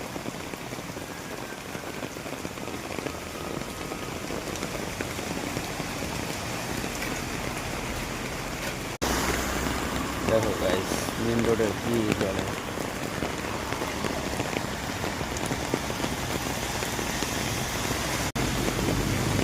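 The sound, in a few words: heavy rain falling on a main road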